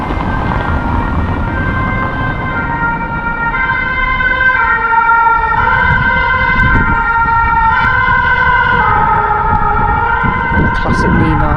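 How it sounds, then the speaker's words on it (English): A fire engine siren wails loudly as the truck passes through a street in a Belgian, Luxembourg or French town, its rising and falling tone steady and close throughout with traffic rumble beneath. "I think that was a fire engine going by."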